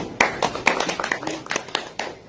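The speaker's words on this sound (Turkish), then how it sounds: "Bir alkış yapın" Guests at a wedding ceremony clap together in a short burst of brisk, uneven handclaps, close and moderately loud.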